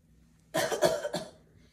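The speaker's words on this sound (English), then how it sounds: "So one big breath, then a cough." A single harsh cough, a few quick bursts run together, fairly close and moderately loud, with quiet before and after.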